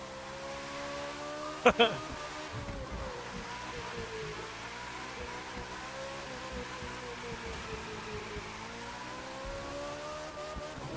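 A car engine in Far Cry 5 drones steadily, its pitch rising and falling as the car drives, with a sharp knock early on and people talking over it.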